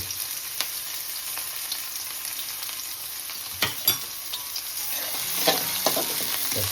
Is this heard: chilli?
yes